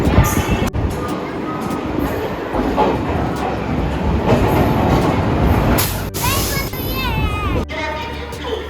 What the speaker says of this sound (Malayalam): ട്രെയിൻ വരുന്നുണ്ട് ഗെയ്സ് സിക്കന്ദ്രാബാദ് പോകുന്ന ശബരി എക്സ്പ്രസ്